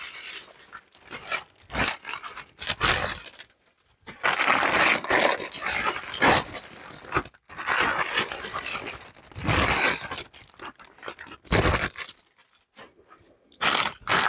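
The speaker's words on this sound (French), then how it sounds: "On va commencer à déballer tout ça." Packaging for Warhammer Stormbringer magazine issues is torn open and unwrapped, with close crinkling, crunching and tearing of plastic and cardboard in irregular bursts separated by brief pauses.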